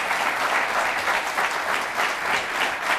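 A studio audience at a televised discussion forum bursts into sustained, dense applause, a steady wash of many hands clapping with no voices above it.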